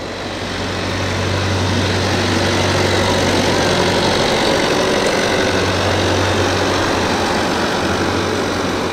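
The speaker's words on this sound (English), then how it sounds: "I can hear the distinctive rumble of a tractor, classic tractor time, and a Massey Ferguson coming in." A classic Massey Ferguson tractor rumbles at a steady low idle, its engine drone loud and close and holding evenly throughout, heard at a Boxing Day steam and vintage vehicle rally.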